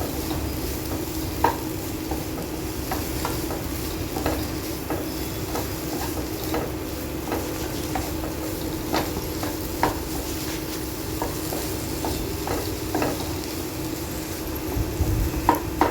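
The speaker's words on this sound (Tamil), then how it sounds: "ஒரு தக்காளி போட்டு லைட்டாக அந்த மசாலாவில் நம்ம மிக்ஸ் பண்ணி எடுத்துக்கலாம்." A spoon stirs a tomato into masala frying in a pan for a katti roll filling. The sizzle is steady and close throughout, with repeated scraping clicks of the stirring at an irregular pace.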